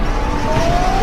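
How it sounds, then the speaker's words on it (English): Tsunami warning sirens wail steadily along a coast after a magnitude 8.2 earthquake in Chile, a sustained high tone under a constant wash of background noise, with no speech. "Tsunami sirens blaring."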